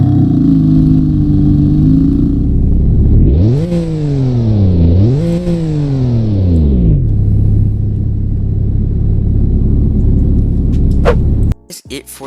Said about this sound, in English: let's hear the startup of the BMW M4